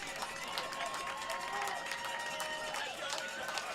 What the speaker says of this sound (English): as you can hear the crowd go crazy because we're on the home side